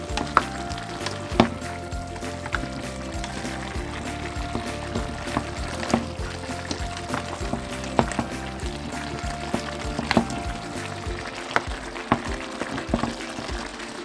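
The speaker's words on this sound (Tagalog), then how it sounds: "haluin lang po natin" Chicken caldereta being stirred in a pan, a steady moderate simmering bubble with scattered sharp scrapes and taps of a utensil against the pan, close and without talk.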